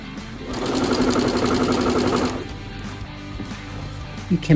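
A sewing machine stitching quilt pieces with seams pressed down, running in a steady whirring burst for about two seconds before stopping, followed by quieter handling sounds and faint background noise.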